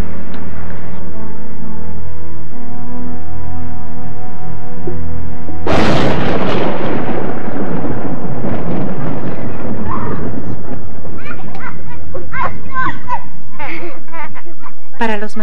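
Thunder rolling through a tropical rainforest during a rainy-season storm, a loud sudden boom breaking in midway and rumbling on for several seconds, heard under a narrating voice.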